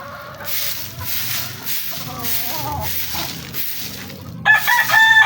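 A Boston Sweater gamefowl rooster crows loudly and close, one long drawn-out call followed by a sharper burst at the end, heard in a backyard coop.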